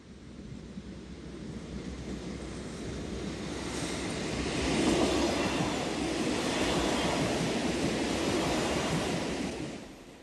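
Two TEE Gottardo passenger express trains pass each other on the Zurich–Milan line, rumbling steadily for about ten seconds, the broad roar swelling midway and then fading near the end, with no voices.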